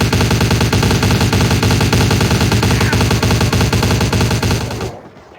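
Rapid automatic gunfire from Vampire the Masquerade Bloodlines, loud and continuous bursts with some echo, cutting off abruptly near the end.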